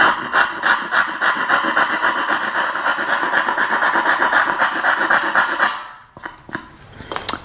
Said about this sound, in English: So I'm just going to sand my way into the shape that I drew with the marker.